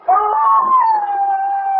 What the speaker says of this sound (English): The neighbour's dog's at it again, Mrs. Edney.